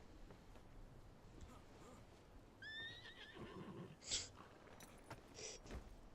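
A horse whinnies in the video game Game of Thrones: Kingsroad: a rising neigh with a couple of trailing calls midway, then brief sharp snorts and faint hoof clops over soft game ambience.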